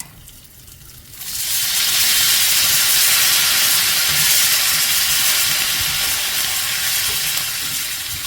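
Curry leaves and spices tempering in hot oil for tamarind pulihora, breaking into a loud, steady sizzle after a quiet first second and holding strong throughout, with no voices.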